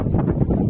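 Low, rumbling wind buffets the microphone in a steady, cold gust near the summit of Pico da Caledônia in Nova Friburgo, Brazil, with no other sounds standing out.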